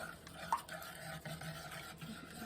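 Spoon stirring flour into cold water in a pot, a soft, steady swirling and light scraping with one faint click near the start, quiet and close.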